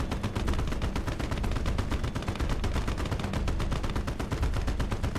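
Rapid, regular bursts of gunfire and artillery from the World War II game Call to Arms: Gates of Hell, a Germany-versus-USSR battle at Stalingrad in winter, forming a steady rattling barrage with no pauses.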